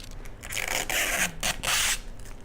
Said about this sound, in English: we're going to be making sure we remove all the tapes and the plastic cover